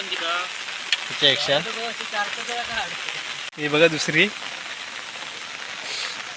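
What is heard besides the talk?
heavy rain while fishing in a creek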